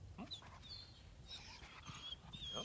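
A female dog whimpers during fetch training with a stick, giving several thin, high-pitched whines spread across a few seconds. The whines are faint to moderate over soft background noise.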